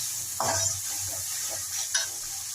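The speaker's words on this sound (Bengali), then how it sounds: "এখন আমি পোস্ত বাটা একটু জলটা দিয়ে দিচ্ছি মশলাটা কষার জন্য" Spice paste with poppy seed paste and a splash of water fries in a pan for cauliflower curry, giving a low, steady sizzle broken by a few soft stirring scrapes, with no talk.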